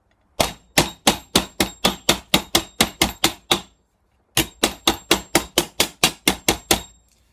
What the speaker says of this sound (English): and then a bit more hammering